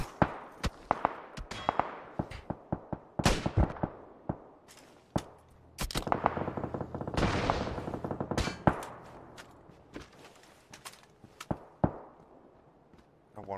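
Rapid gunfire and sharp clangs from an SKS rifle in a multiplayer shooter tournament match, coming in quick bursts and single cracks with players talking over the shots.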